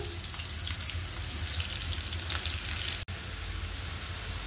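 Onions sizzle and crackle steadily in a hot pan as a noodle dish is cooked, a soft continuous frying hiss with one brief dropout.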